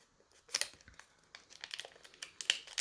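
A €5 paper banknote being carefully folded by hand gives close, quiet crinkling and crisp paper rustles in short irregular bursts, with no talking.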